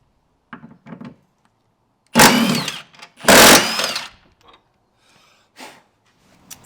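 Electric ratchet whirs in two loud bursts, close by, breaking painted bolts free on a Jeep JL Wrangler tailgate, with a few quieter clanks and handling noises before and after.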